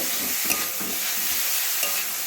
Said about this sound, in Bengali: সম্পূর্ণ পেঁপেটাকেই এর মধ্যে দিয়ে দিলাম দিয়ে একটুখানি নাড়িয়ে নেব